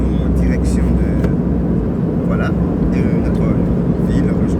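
Steady, loud broadband engine roar fills an airplane cabin in flight, with someone speaking over it throughout.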